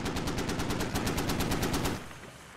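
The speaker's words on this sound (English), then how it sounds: "And it's the 50 cal." A .50 cal heavy machine gun in a military combat game fires a rapid, evenly spaced burst of about fifteen loud shots lasting roughly two seconds, then stops abruptly, leaving faint ambience.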